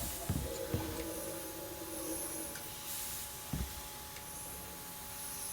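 A fuel canister sprays into a spawn blocker in the survival game Icarus, making a steady mechanical hiss with a faint hum and a few soft thuds.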